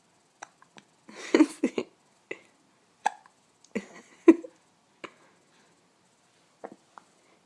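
A young child hiccups repeatedly in short, sharp, irregular bursts, with some small breathy sounds between them, close and clear against a quiet room.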